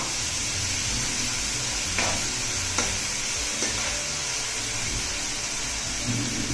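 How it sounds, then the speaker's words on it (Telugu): Two medium onions, thinly sliced, frying in a pan and being stirred, giving a steady close sizzle with a few faint scrapes, no talking. "నేను ఈ సైజు మీడియం సైజు ఉల్లిపాయలు 2 తీసుకున్నాను. వీటిని దోరగా వేగనిద్దాం."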